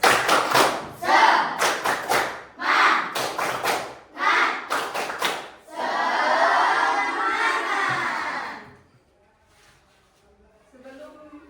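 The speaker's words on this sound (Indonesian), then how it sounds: "Tepuk semangat." Schoolchildren in a classroom perform a rhythmic spirit clap led by their teacher: several quick patterned bursts of clapping, then a sustained wash of clapping and young voices, before it fades to near silence with faint talk.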